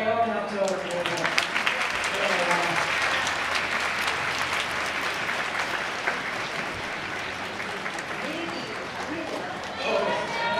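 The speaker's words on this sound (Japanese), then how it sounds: "もう一度温かいように拍手をお送りください" A large crowd at a kimono dress contest festival applauds warmly with loud, sustained clapping, while a voice speaks over it at the start and again near the end.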